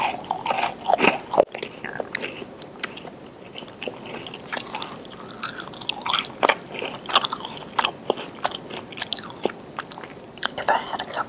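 Someone bites into a chocolate chip cookie and chews it up close, giving repeated crunchy bites and wet mastication in an irregular rhythm. Brief murmurs can be heard between the bites.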